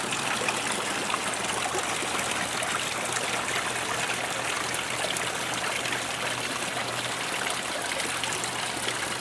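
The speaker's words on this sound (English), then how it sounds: "And here's the little waterfall fountain here." A small garden waterfall fountain splashes in a backyard, its steady broadband trickle and gush of falling water running continuously and fairly close, with no voices over it.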